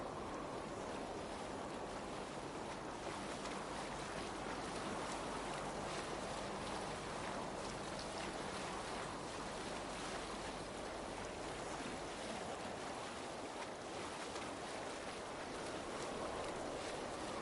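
A boat sails through icy fjord water in Assassin's Creed Valhalla, a steady wash of water and wind rushing continuously around the hull with no voices.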